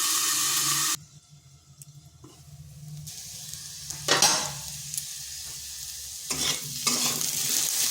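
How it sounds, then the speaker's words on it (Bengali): Potatoes sizzle and fry in oil in a pan, a loud hiss at first that drops away, then returns with stirring and scraping sounds. "আলুটা এরকম একটু লাল লাল করে ভেজে নিয়েছি"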